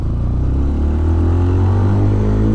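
A Benelli BN125 motorcycle rides along with a loud, close engine drone whose pitch climbs slightly under gentle acceleration, accompanied by steady wind rush and no speech.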